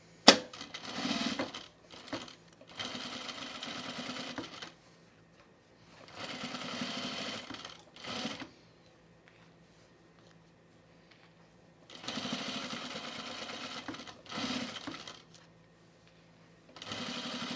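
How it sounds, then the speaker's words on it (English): A sewing machine edge stitches bias-cut, open-weave blazer fabric in several bursts of steady, rapid needle clatter, separated by quiet pauses and a few faint clicks. "So now we're going to edge stitch this down."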